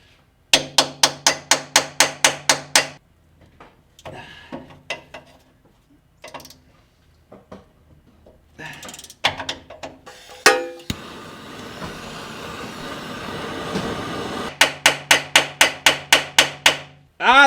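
Extractor socket hammered onto a seized bolt on a BMW: sharp, ringing metallic strikes in fast even runs, then a pause with clanks and a hissing burst, then another rapid volley of blows, close and loud.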